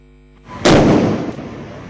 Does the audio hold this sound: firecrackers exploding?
yes